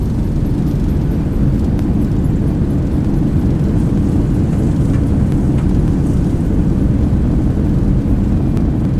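Boeing 737-800 thrust reversers roar during landing rollout in the X-Plane simulator, a dense, steady low rumble that holds loud and unbroken throughout.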